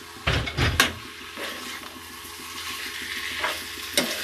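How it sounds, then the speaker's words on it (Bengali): Snake gourd, potato and poppy seed curry is stirred firmly in a pan, with a few close scraping strokes at the start, a low steady sizzle through the middle, and one more scrape near the end. "এবার আমি ভালো করে একটু জোর দিয়ে এবার নাড়বো ভালো করে"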